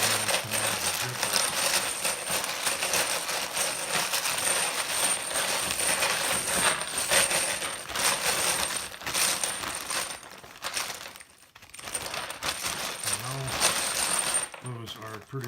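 Loose brass cartridge cases shaken hard inside a zippered plastic bag with alcohol-based spray case lube, a dense continuous metallic jingling and rattling held for many seconds, close and loud, with a brief lull near the end.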